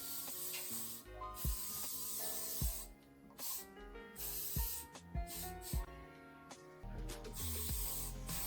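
Makeup setting spray misted from a spray bottle: several short, sharp hissing bursts scattered over steady background music.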